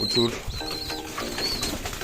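High flyer pigeons coo softly outdoors amid brief chirps and a flutter of wings, with some indistinct voices nearby.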